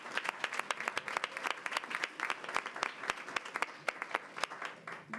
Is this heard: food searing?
no